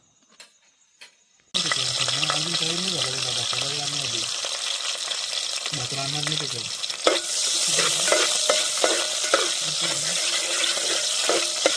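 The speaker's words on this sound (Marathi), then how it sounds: "पोपटी चिकन मसाला आणि राईस चला राकेशने बनवायला घेतला" Popati chicken masala cooks in a pan over a gas flame outdoors in a forest at night. After a brief quiet start, a close, continuous sizzle runs with repeated scraping stirs.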